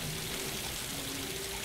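A waterfall in the video game Tomb Raider rushes with a continuous broadband splashing roar, steady and alone without any talk.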